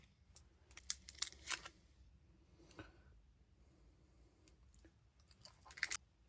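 Someone chews very minty xylitol gum from a Polish military ration up close, giving a few sharp wet clicks and crunchy bites in bursts, separated by soft breathing and quiet pauses.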